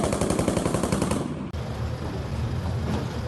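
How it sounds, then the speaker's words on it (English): Rapid bursts of machine gun fire in combat, fast regular repeated shots filling the first half, then continuing denser and rougher after a brief cut, fairly distant and unaccompanied by speech. "engaging Russians with rocket-propelled grenades and a machine gun"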